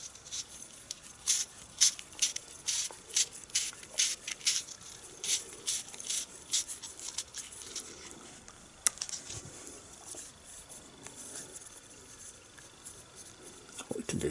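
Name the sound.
Teflon tape being wrapped around a compression fitting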